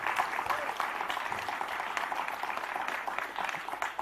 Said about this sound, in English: Can we have a round of applause for Sindhura as well?